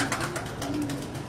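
Pigeons at a Punjab loft keeping banded and Kabli high-flying breeds coo softly, a brief low murmuring call heard at a moderate distance.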